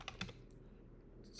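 Several quick keystrokes on a computer keyboard at the start and again near the end, with a quiet pause between, close and fairly soft during a Prisma migration setup in a terminal.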